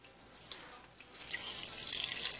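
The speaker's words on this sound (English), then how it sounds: "I put it through the tea towel and I wring it out really well." Homemade vegetable juice, wrung through a tea towel, trickles and drips into a container: faint at first, then a brighter, steadier liquid patter builds over a couple of seconds.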